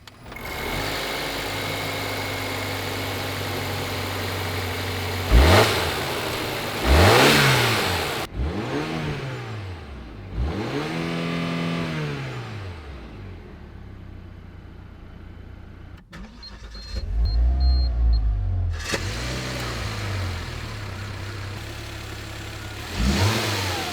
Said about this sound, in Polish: Aby uruchomić silnik Volvo V90 T8 musimy przestawić go w tryb power.